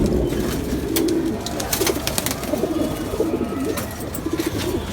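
A Pakistani pigeon coos close by in repeated low, throaty rolls, with soft rustling and faint clicks between the calls.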